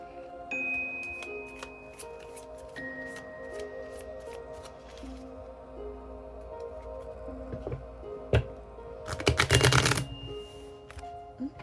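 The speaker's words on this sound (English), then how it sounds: "Let me shuffle." Oracle deck cards being shuffled during a card reading, a dense burst of riffling slaps near the end after quieter tapping and handling sounds, close and indoors.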